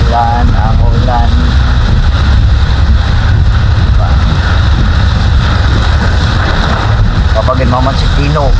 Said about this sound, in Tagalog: Bundak na po ang ulan.